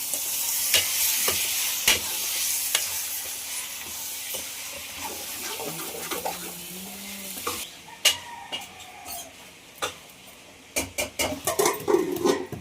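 Chicken pieces frying with ginger garlic paste in a pan, first a loud steady sizzle with occasional clinks, then repeated scraping and tapping stirs against the metal as the sizzle fades, nearby and without speech.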